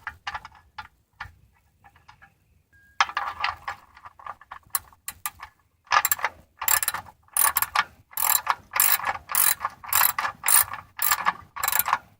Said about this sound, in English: we'll go ahead and put the bolt back in